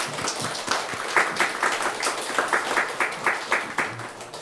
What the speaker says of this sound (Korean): 우리 박수를 한번 올려드릴까요?